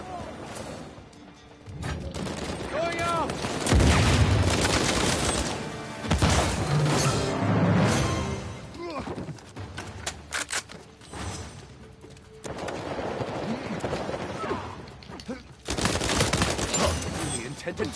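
Bursts of gunfire from a multiplayer Uncharted 4 match come in loud clusters with crashes and thuds, while excited voices shout over the shooting throughout.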